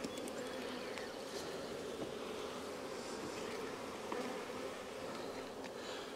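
Honey bees in a nuc hive being worked frame by frame, their steady close buzzing filling the air throughout with no talking over it.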